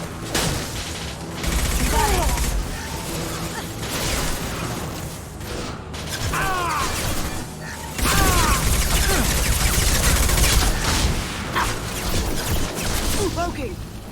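Combat in the video game Mass Effect 2 brings dense rapid gunfire and crashing impacts in sustained loud bursts. Shouting voices run over much of the fighting.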